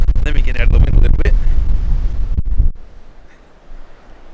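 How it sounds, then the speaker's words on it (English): Strong gusts of wind buffet the microphone on a beach, a loud low rumble that drops away abruptly partway through as the recorder is moved out of the wind, leaving a much quieter background. "let me get out of the wind a little bit"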